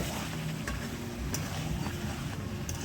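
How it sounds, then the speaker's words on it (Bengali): Lemon chicken being stirred in a covered pan over a low wood-fired clay stove, with a steady soft sizzle of frying meat and faint scraping stir sounds running throughout, close and even, no talking. "মাঝে মাঝে ঢাকা চাপা খুলে নেড়ে চেড়ে দেব"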